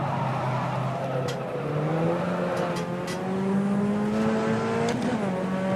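The Puma P052 race car's engine roars at the Ibarra circuit in rFactor 2, its pitch climbing steadily through the gears with a brief drop on a shift, loud and close.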